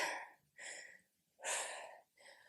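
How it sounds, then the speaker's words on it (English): Heavy breathing during a leg workout: four loud, close breaths alternating in and out, each a rasping gasp with short pauses between. "My breathing rate is up."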